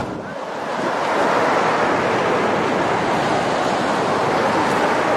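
Surf washes onto a small pebble beach in Okurcalar, Turkey, a steady broadband rush of waves mixed with wind noise, building in the first second and staying constant, with no one speaking.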